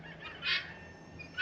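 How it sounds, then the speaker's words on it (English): A guinea hen in a farmyard gives a single harsh, honking call, fairly faint and distant over a low steady background hum, then starts another at the very end. "Apologies for the guinea hen over there. She barks like that all day."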